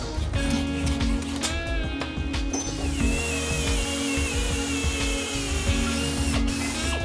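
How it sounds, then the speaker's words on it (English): A drill cuts a 44mm hole through the steel spring seat of a Landcruiser 200 Series during an airbag install, a loud continuous grinding, ratcheting whir with a steady mechanical drone throughout. "so cut off, drill the hole"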